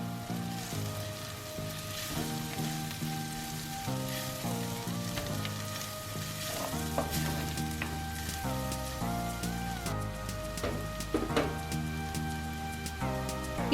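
Sliced onions and turmeric powder frying in oil in a pan for kaanthari chicken give a steady low sizzle with occasional stirring, set beneath louder background music.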